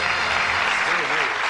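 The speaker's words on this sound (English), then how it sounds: "Give them a nice warm round of applause." A game show studio audience gives a short, steady round of applause with a voice faintly beneath it.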